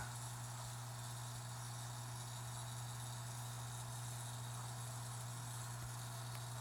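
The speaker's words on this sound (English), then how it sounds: "that sponge filter is rattling because it needs to be cleaned" Aquarium sponge filter that needs cleaning gives a steady, continuous low hum and buzz with a faint rattling texture, constant and unchanging throughout with no talking.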